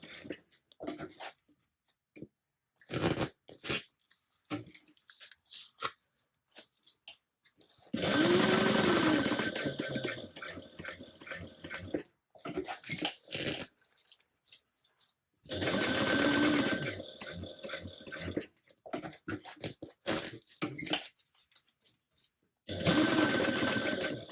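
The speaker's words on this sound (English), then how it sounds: "stitching down 1/8 of an inch away from the edge of the webbing" A home sewing machine stitches down the edge of webbing on a tote bag in several bursts of steady, close whirring, with short pauses and clicks between runs.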